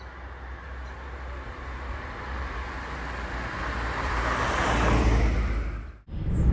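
Suzuki Swift engine while driving on a country road, a steady broadband drone of engine and road noise that swells gradually before a brief dip near the end, with no talking.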